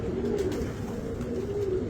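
Several high-flyer pigeons coo softly and continuously nearby, low throaty murmurs overlapping in a steady rhythm.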